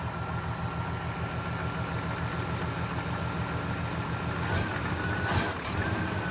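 A Jeep CJ5 broken down on an off-road trail idles with a steady rumbling drone that holds close and loud, then dips and surges briefly near the end as the engine stumbles and refuses throttle.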